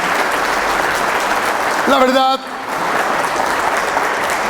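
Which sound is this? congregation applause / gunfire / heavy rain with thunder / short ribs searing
congregation applause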